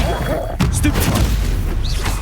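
An Incendio fire spell cast in Hogwarts Legacy erupts as a booming whoosh with a deep, rumbling blast, followed by crackling bursts and game ambience.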